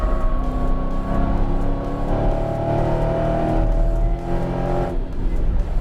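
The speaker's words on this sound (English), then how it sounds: "You can hear me on and off the gas through here." A 2019 Dodge Challenger R/T Scat Pack V8 on a racetrack, steady loud engine drone with the throttle easing on and off at speed, tire and wind noise underneath.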